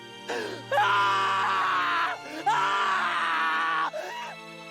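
A man screams in anguish in the game Steins;Gate Linear Bounded Phenogram: loud, sustained, raw cries, with two long wails followed by a shorter, fading one.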